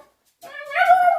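A dog whines in a short, rising, tonal cry that swells after a brief silence, close and fairly clear, with no voices over it.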